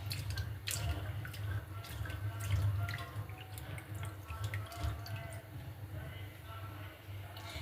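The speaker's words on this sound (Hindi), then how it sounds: "चलिए दाल बनाने के लिए हम सबसे पहले दाल को धो लेते हैं अच्छे से, मसल के 3-4 पानी से।" Chana dal lentils being rinsed and rubbed in water, with steady drips and splashes of water running close by, under a background of low hum and some voice.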